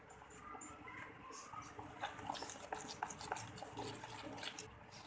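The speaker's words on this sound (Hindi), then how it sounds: "इसको अच्छे से मिक्स कर देंगे सब चीज़ों को बेसन में।" Ingredients stirred into besan (gram flour) batter for Hyderabadi dahi phulkiyan, soft wet squelching and scraping strokes in an irregular rhythm, quiet and close.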